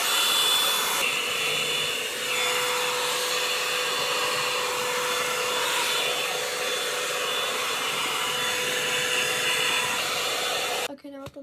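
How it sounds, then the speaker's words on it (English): A Revlon hair dryer blows continuously while drying hair, a loud steady whirring hiss close by that holds level for several seconds before cutting off with a brief clatter at the end. "I'm gonna dry my hair. I use the Revlon hairdryer."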